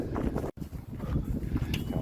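Wind roars steadily into the microphone of a cyclist riding uphill into a headwind, a dense, buffeting rush that fills the whole clip, with one brief dropout near the start.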